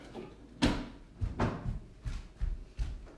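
A drawer of essential oils slides and bumps as it is pulled open, several sharp wooden knocks and scrapes in an uneven sequence, close and fairly loud, with no speech.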